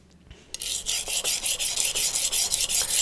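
Steel knife blade drawn across a 200-grit CBN whetstone, a run of about a dozen rhythmic gritty rasping strokes, close and fairly loud, with no talking.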